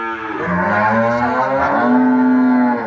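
Dairy cows on a farm of improved milk breeds with calves, mooing loudly and up close in long, drawn-out calls that overlap, with no talking.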